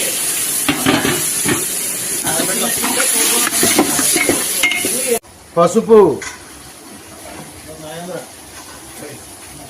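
Water is poured into a sizzling prawn and fenugreek-leaf curry after the tomatoes were stirred for ten minutes: a loud, dense frying hiss with clattering stirring cuts off abruptly into quieter bubbling, with a voice speaking briefly.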